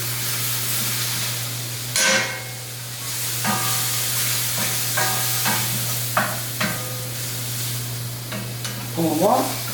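Butter and mushrooms sizzle loudly in a cast iron pan, a steady close hiss with a constant hum beneath and scattered scrapes and clatters as the pan contents are tossed.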